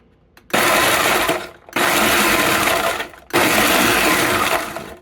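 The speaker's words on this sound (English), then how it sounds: "All right, I got them in the blender." Three loud bursts of a blender motor pulsing eggs, each lasting about a second, separated by short pauses as it pulses on and off.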